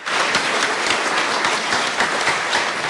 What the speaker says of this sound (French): Christine Albanel est partie sous les applaudissements de ses anciens collaborateurs